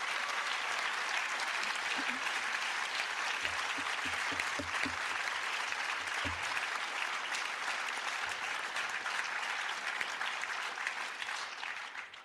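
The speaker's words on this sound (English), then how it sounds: "Could I have one more round of applause for all of our award winners?" A large crowd at an awards ceremony applauds continuously, a dense wash of clapping that holds steady for several seconds before tapering slightly at the end.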